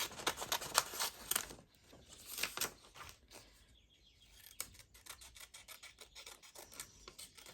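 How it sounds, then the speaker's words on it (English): Scissors cut out paper ephemera for a craft project in a series of close, quiet rasping snips that come in bursts, with a faint birdlike chirp in the background. "I just want to cut this one out."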